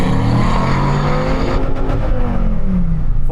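A Dodge Viper pulls away from a standstill, its engine note loud and close, climbing steadily in pitch as it accelerates through the revs before easing slightly near the end.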